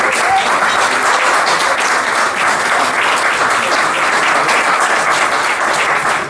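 Sustained, loud audience applause fills the room as a restaurateur is welcomed on stage at an award event, dense clapping continuing steadily throughout with no talk over it.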